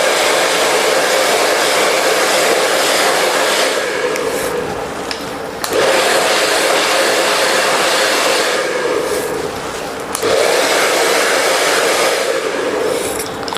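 A hair dryer blows continuously while hair is blow-dried for a razor/feather haircut, a loud steady whoosh that briefly dips in pitch and strength twice as the dryer moves.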